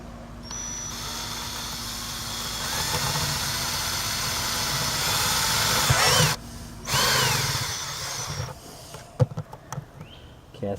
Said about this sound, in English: you don't want to go too fast with the drill because then the plastic won't make a decent hole